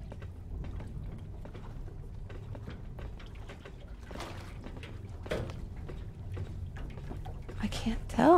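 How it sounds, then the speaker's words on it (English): Steady, loud rushing water fills an underwater lab in the Rust video game, a constant wash of noise with faint murmuring voices beneath it. "That water is so loud."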